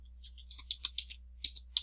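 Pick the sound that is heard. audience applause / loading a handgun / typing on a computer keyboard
typing on a computer keyboard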